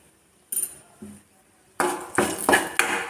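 A spoon stirs fenugreek powder into hot tempering in a pan for mango pulissery, giving a few sharp metallic scrapes and clinks after light taps, close and fairly loud with no talk.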